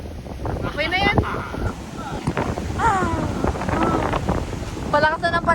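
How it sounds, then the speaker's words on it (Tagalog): A strong, cold wind buffets the microphone on a boat trip, a constant rough roar beneath people talking and calling out nearby. "Palakas na ng palakas yung hangin na naman. Malamig ng hangin."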